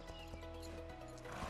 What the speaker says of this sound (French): Oh mon cheval il est pas très docile je crois bien.